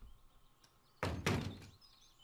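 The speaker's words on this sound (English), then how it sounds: "She slammed the door loudly." A door slams shut in a visual novel scene, with one sharp, loud bang followed by a second heavy thud a moment later, and then quiet room tone.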